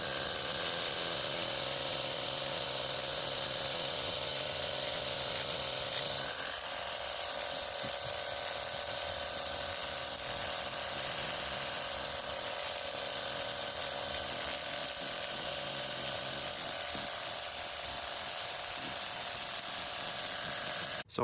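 Cordless pressure washer spraying moss and grime off patio pavers, a steady broadband hiss of water jet on stone that runs loud and continuous throughout, with a brief drop in the low rumble partway through.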